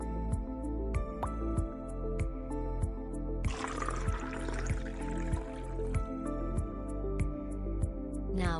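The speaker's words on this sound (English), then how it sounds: "Fill it with clear water." Clear water pours into a transparent tub for a simple classroom experiment, a few seconds of soft, splashy filling noise set against steady background music.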